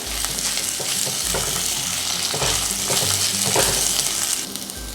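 Long-sliced onion hits hot oil in a pan for jowar upma, giving a loud, dense, continuous sizzle with rhythmic stirring scrapes throughout, close and without speech.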